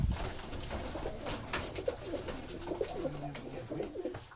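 A homing pigeon coos softly in low, repeated throaty calls over steady rustling and handling noise nearby.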